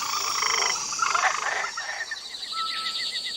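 A frog croaks loudly and close, a string of rapid rasping calls followed by a faster run of short repeated pulses, with nothing else over it.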